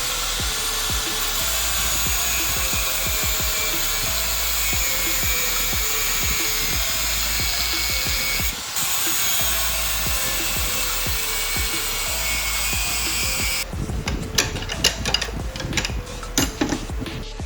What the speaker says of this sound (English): cutting a bolt of the shock mount bolt with a grinder